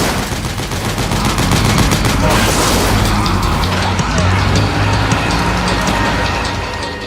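Dense, steady gunfire in Metal Gear Solid 4: Guns of the Patriots, with shots aimed at a gate, rattling continuously and loud for the whole stretch over a heavy rumbling game backdrop.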